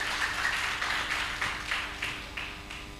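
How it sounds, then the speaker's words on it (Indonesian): An audience claps at a special film screening, with a light patter of hands rising into a few louder, spaced claps over a few seconds. "beri tepuk tangan yang gemuruh"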